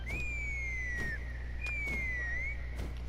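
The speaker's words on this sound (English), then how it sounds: "That sounded like a whistle." A whistle blown to summon a Kukusaur creature sounds two long, clear whistle notes, each sliding gently downward, separated by a short gap, with a few faint clicks in a quiet setting.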